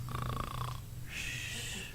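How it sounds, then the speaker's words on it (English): A man playing Scrooge lets out a tough, loud snore in bed on a stage production, a rasping inhaled snort followed by a higher wheezing exhale, close and heard alone. "Scrooge wakes himself from a tough, loud snore."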